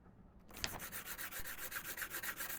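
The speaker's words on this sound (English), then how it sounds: "I don't really see the point in washing them first, then sanding them" Close, rhythmic sanding of stained glass pieces: quick back-and-forth scraping strokes repeat steadily, a harsh gritty rasp that starts after a brief silence.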